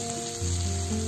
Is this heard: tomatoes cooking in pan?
yes